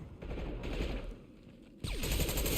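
Automatic gunfire rattles in Mass Effect 2, a dense burst of rapid shots that dips briefly and then resumes louder and sharper near the end, with no talking over it.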